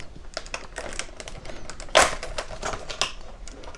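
Cardboard door of a mechanical keyboard switch advent calendar being opened, a run of small close clicks and taps with one sharper crisp snap in the middle, heard alone.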